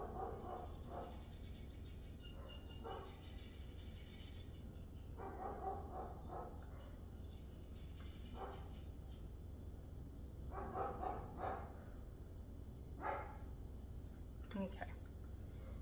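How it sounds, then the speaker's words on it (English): A dog barks in scattered short bursts, faint and somewhat distant, over a quiet indoor background with a voice faintly present. "That is my dog barking."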